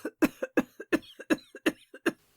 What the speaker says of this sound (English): her laugh ending in a cough